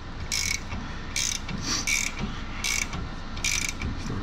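A ratchet tightens RoadActive suspension hardware in a run of bright clicking bursts, about five quick rattling strokes separated by short pauses, close and clear over a low background hum.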